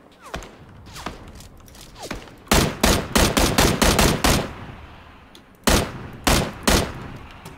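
Bursts of automatic gunfire in a shooting video game, the sharp, loud rapid-fire volleys coming in two main strings with a pause between them, after a few softer isolated shots at the start.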